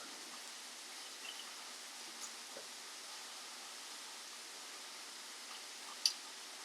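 Steady heavy rain comes down outside as a dense even hiss with a few faint ticks and one sharp click near the end.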